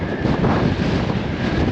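Strong wind gusting along the Blackpool promenade, roaring steadily into the microphone as a loud, constant broadband rush with no talk.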